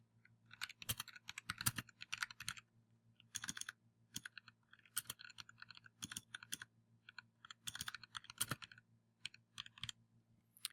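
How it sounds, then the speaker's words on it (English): Typing on a computer keyboard in quiet, close bursts of rapid key clicks separated by short pauses, with a low steady hum underneath and no speech. "And let's just type."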